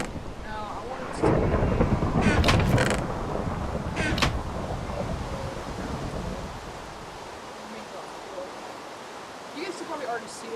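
Thunder in a tornado survival video game booms in a heavy rolling crash, then rumbles away under steady rain hiss with creaking and a few faint crackles.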